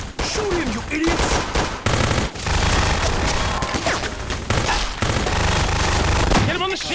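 Sustained automatic gunfire crackles through a Clear Skies 3 machinima battle, dense bursts of rapid shots with brief gaps, loud and close, while voices shout over the shooting.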